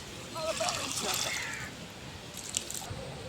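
Water poured into a small pond to check for fish, heard as close sloshing and splashing that swells then eases, with a second brief splash near the end.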